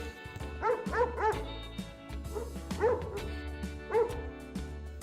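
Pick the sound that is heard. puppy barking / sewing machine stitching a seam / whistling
puppy barking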